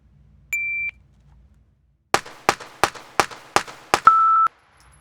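A pistol fires six quick shots in a rapid, evenly spaced string after a draw from a holster, a Bill Drill on a range. A shot-timer beep sounds before the first shot and again after the string; sharp, loud and close.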